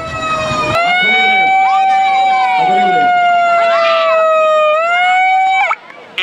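A loud, close ambulance siren wails with a sustained, slowly shifting tone at a town festival in Alguazas, Murcia, voices audible beneath it, then cuts off abruptly near the end.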